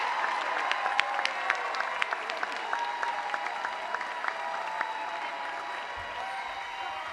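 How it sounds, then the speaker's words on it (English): A graduation ceremony crowd applauds steadily for the class of 2025, a dense, sustained wash of clapping with occasional whoops and cheers mixed in, heard from within the audience. "Let's give them one more round of applause."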